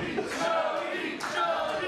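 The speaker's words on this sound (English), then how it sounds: "you hear the Gym Wars crowd rocking hard behind Big Country" Wrestling crowd at an All Pro Wrestling Gym Wars event cheering loudly, a dense roar of shouting voices with swelling peaks, close and continuous.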